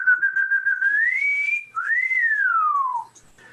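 A person whistles an imitation of an upland sandpiper's wolf whistle, a clear tone holding level, then rising, then a second note sweeping up and slowly gliding down, alone and close.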